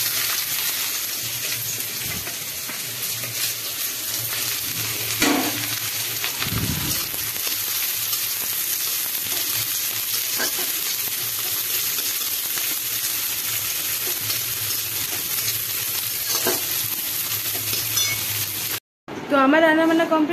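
Chopped onions frying in hot oil in a kadai, a steady broadband sizzle running throughout with occasional clinks of a utensil, ending abruptly near the end with a brief burst of other sound.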